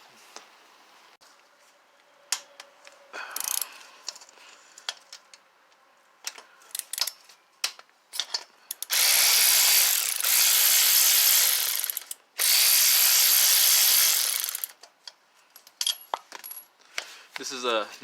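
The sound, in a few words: ratchet loosening connecting rod cap bolts, Mini Cooper engine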